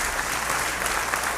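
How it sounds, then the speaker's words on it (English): Steady applause from a studio audience, dense and continuous clapping at moderate loudness for the whole short stretch, with no voices over it. "thank you, ladies and gentlemen, for that incredible applause at home"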